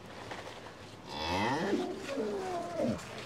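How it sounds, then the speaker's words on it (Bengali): Cattle on a dairy farm moo in two long, loud calls, one drawn out and falling, the second following closely, with a quiet farmyard background and no talk. "আইনাল ভাই, এটা হচ্ছে আমাদের 1 নাম্বার বকনা, তাই না?"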